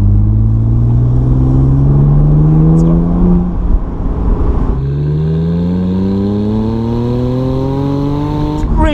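Heard from inside the cabin, a 300 hp BMW Z4 sDrive35i climbs through the revs on winding switchback roads, loud and close, with a brief shift break midway before it pulls hard again.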